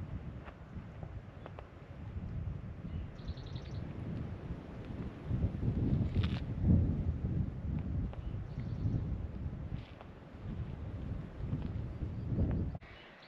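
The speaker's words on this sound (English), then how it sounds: "It's starting to get really windy up here." Steady wind gusts roar and buffet the microphone high on a mountain, swelling louder in the middle and easing off, with no voices.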